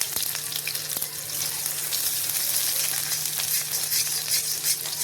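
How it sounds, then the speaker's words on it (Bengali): Chopped garlic and black cumin seeds fry in hot oil in a pan, making a loud, continuous, close-up sizzle with faint occasional clicks throughout, and no talking. "রসুনটা হালকা ভাজবো একটু।"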